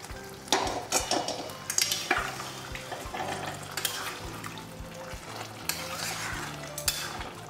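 Masala-rinse water from the kadai is poured into a frying Bengali chicken curry and stirred. A spoon scrapes and knocks against the pan in an irregular rhythm over a steady close sizzle, with no voices.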